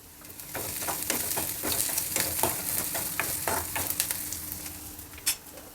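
Chopped onions fry in hot tempering oil for a home-style field bean curry, a soft continuous sizzle broken by repeated scraping and clicking strokes of a spoon stirring the pan, close and alone.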